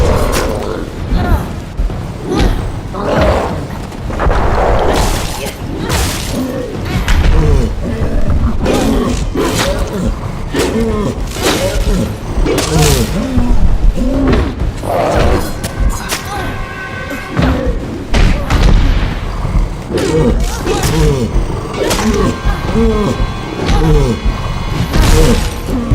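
Repeated explosions and heavy impacts in the fantasy action role-playing game Kingdoms of Amalur, sharp bangs and thuds recurring across the stretch amid combat noise, loud and close.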